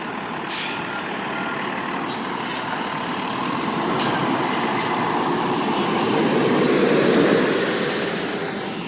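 A vehicle drives along a town's main street after hours, its engine a steady, moderately loud rumble that swells slightly as it passes, with a few faint distant clicks and no talking.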